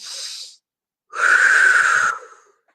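Slow exhaled breath during a guided meditation, a soft airy rush near the mic after a brief hiss, lasting about a second, alone with no talk.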